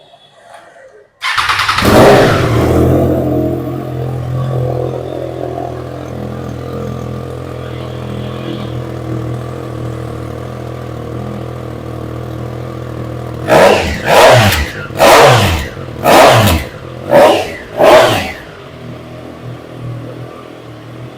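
A superbike with a loud aftermarket exhaust fires up abruptly and settles into a rumbling idle, then near the end gets five or six sharp, loud throttle blips in quick succession, close by and without talk.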